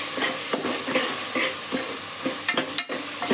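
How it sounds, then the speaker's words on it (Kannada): Tomato bath mixture stirred in a frying pan: a steady close sizzle of frying with repeated scraping strokes of the spoon against the pan, and no talking. "ಮಿಕ್ಸ್ ಮಾಡ್ಕೊಳ್ಳೋಣ."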